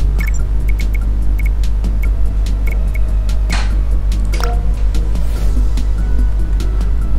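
Engine sound from a car racing minigame in Youtubers Life 2, a steady loud motor drone with small clicks and game effects on top.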